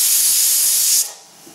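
Steam from a pressure cooker cooking chicken curry over high heat hisses loudly and steadily, then cuts off abruptly, leaving a quiet room with a faint tap.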